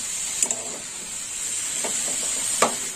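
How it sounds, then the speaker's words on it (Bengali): Snake gourd stir-fried in a pan for a Bengali mixed-vegetable chorchori, a steady high sizzle running throughout with a few sharp scraping stirs near the start and end. "চিচিঙ্গে দেওয়ার পর এবার একটু কষে নেবো।"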